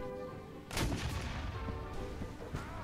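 A musket volley in the Mount & Blade Warband Napoleonic mod L'Aigle erupts as one loud, rolling crack of many shots, followed by scattered trailing reports and a distant rumble.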